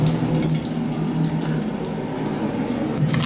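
Hotel shower running with a steady, close wash of water spray, continuous and even throughout with no talk.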